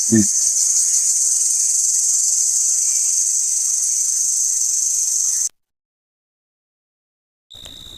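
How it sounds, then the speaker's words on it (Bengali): Dense, steady cricket chirring fills the night air in a forest sanctuary, loud and continuous, then cuts to silence before briefly resuming. "আর তার মধ্যে ঝিঝির ডাক"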